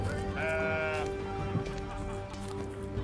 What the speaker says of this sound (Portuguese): Ó, uma ovelha preta ali.